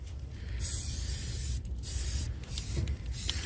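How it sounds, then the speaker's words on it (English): Spray paint hissing from an aerosol can in short bursts, a sharp airy hiss that starts and stops several times over a low background rumble. "At least you can't get arrested for this kind of spray paint"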